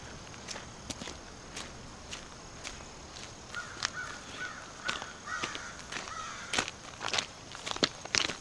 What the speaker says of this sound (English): You hear the crows squawking.